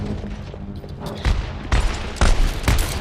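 Gunfire in the video game Overwatch, with several loud, sharp shots and bursts sounding in quick succession over a background of game noise and no voices.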